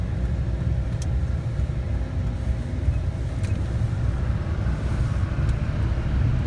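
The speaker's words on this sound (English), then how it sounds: "this Duramax diesel, this thing is powerful" A 6.6-litre Duramax diesel engine in a 2004 Chevrolet Silverado 2500HD pickup rumbles steadily and low, filling the background with a constant deep drone and a few faint ticks.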